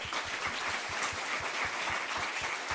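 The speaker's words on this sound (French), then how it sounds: "Applaudissez-vous!" Steady, full applause from a conference audience at a talk on becoming a freelancer, many hands clapping evenly and continuously at a moderate distance.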